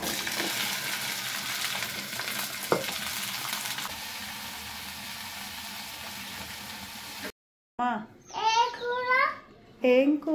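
Tempering (tadka) crackles and sizzles steadily in a hot pan for several seconds, loud and close, before cutting off; a voice and talk follow.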